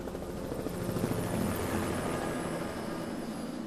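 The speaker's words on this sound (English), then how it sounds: "The helicopter is lowering down an orange bucket." A helicopter hovering while lowering a water bucket over a forest fire drones steadily with a deep rotor thrum and a whining engine, loud and continuous, with no voices.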